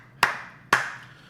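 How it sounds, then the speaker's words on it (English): Two deliberate hand claps about half a second apart, sharp and close with a short ringing decay after each, a slow clap in an otherwise quiet room. "Slow clap."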